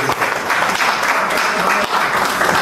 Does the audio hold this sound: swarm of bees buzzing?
no